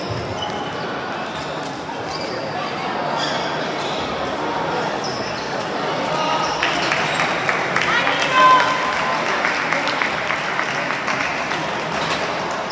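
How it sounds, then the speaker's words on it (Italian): Crowd applause at an Italian Serie C1 Sicily futsal match in Palermo as an injured player leaves the court, a steady mid-distance clapping under a commentator's running voice that swells toward the end. "Esce Immesi, applausi per lui."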